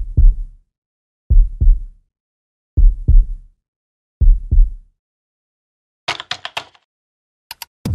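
Heartbeat sound effect in a city news jingle: four loud, deep lub-dub double thumps about a second and a half apart, followed by a burst of bright crackling hits and two final sharp ticks.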